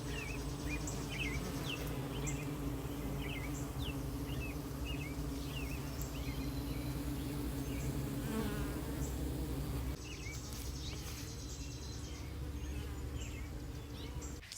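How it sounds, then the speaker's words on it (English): Gentle bees buzzing close by in a home garden in early July, a steady low drone that carries on throughout with faint bird chirps scattered above it, quiet and with no talking. "They're also fun to listen to. Let's see if I can get a little closer. We have very, very gentle bees."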